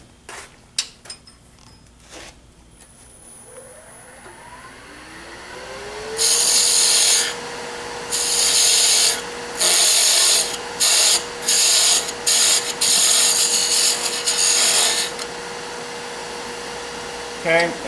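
A wooden tenon is cut for a Christmas ornament, probably on a lathe, as a tool bites into spinning wood in repeated loud, scraping bursts over a steady motor hum. Faint clicks come before the cutting.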